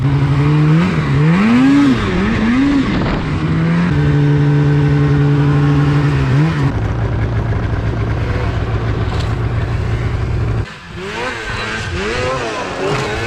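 Mountain snowmobiles, a Polaris Pro RMK 800 and an Arctic Cat M8, ride on crusty snow, engines loud and close, revving up and down in rising and falling whines with a steady drone between surges.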